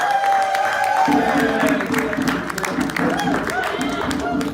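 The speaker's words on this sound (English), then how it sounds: "Everybody applaud now." Crowd at a Ward 8 Kwanzaa celebration clapping and cheering loudly, with a sustained roar of applause and whoops swelling after a brief pause, voices shouting over the clapping.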